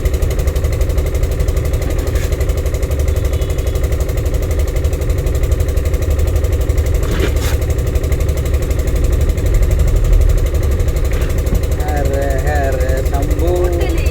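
A car engine runs with a steady low rumble throughout a driving lesson, while an instructor talks over it at close range.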